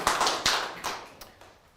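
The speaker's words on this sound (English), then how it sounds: "it's a big clap to you because you made it out of 100" A handful of people clap at a grand opening event, only four or five sharp, separate claps, close and fairly loud, fading and thinning out within a couple of seconds.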